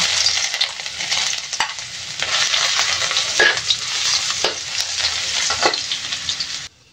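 Chopped ginger crackles and sizzles in hot oil for a Filipino monggo dish, a loud close frying hiss broken by spatula scrapes and stirring clatter, ending abruptly.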